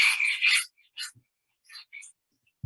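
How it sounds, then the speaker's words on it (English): A finger scratching over a computer's microphone input produces a few short, close, harsh rasping bursts separated by silence, loudest at the start and fainter afterward. "I just kind of scratch my finger over by the mic input of the computer."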